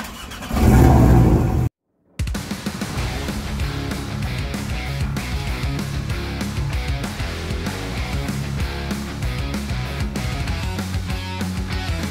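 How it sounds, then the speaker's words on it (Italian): A Porsche 718 Boxster T engine roars in a hard, sustained launch acceleration after a brief silence, loud and close, with a steady throaty rumble throughout, stock configuration with a Ragazzon exhaust. "pronti per fare un lancio e vedere quanto eroga questa belva in configurazione originale"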